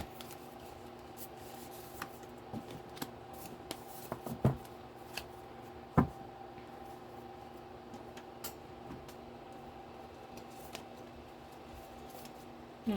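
Tarot cards shuffled for a reading, giving soft, steady papery rustling with a few sharper snaps and taps, close and fairly quiet with no talk.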